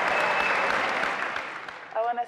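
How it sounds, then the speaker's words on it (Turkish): Studio audience applauding on a Turkish TV game show, a dense wash of clapping that fades over about two seconds before music chimes in at the end. "Ama kendisini bir kez daha alkışlıyoruz."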